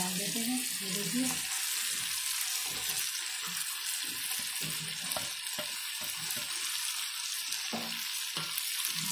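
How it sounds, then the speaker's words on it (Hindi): Boiled, squeezed mustard greens hit hot spice mixture in a pan, giving a steady close sizzle with scraping stirs throughout, while a voice talks faintly underneath. "और अब हम इसको अपने मसाले में डाल देते हैं।"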